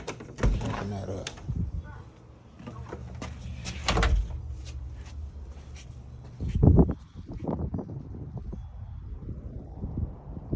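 An apartment front door is opened, with clunks and handling knocks from the latch and door, followed by rustling and shuffling movement nearby.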